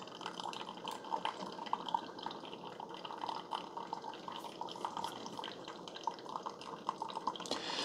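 A Keurig K Supreme Plus SMART single-cup coffee maker brewing a cup: a faint, steady trickle of liquid over a low machine hum, with small drips, continuous and quiet.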